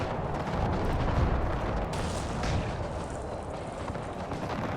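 Continuous rumbling battle din from Empire: Total War, with enemy gunfire and artillery booming together in a dense, steady roar that never lets up, loud and close throughout with no gaps between shots.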